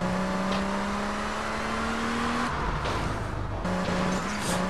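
Car engine in Grand Theft Auto: Vice City drones steadily, its pitch climbing as it revs, then dropping out briefly before resuming, loud and constant with road noise underneath.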